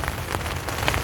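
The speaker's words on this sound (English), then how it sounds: "Watching the rain starting coming down heavy now." Heavy rain falls onto a tent at a camping site, a steady, close patter with no voices.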